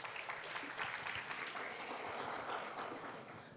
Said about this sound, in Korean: 인싸 여러분 박수로 맞아주시기 바랍니다.